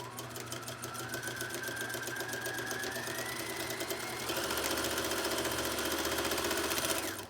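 A sewing machine stitches 2.5-inch quilt strips into 6.5-inch squares, its fast steady needle chatter running continuously and close, growing slightly louder partway through, with no talk.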